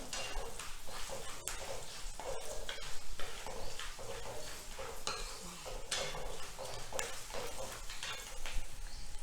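Steady, crackling sizzle of spices and lentils frying in hot oil for a poha chivda tempering, with occasional sharp pops and scraping stirs, continuous throughout and close by.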